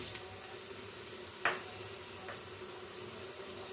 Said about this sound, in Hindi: और इसको हम फ्राई कर लेंगे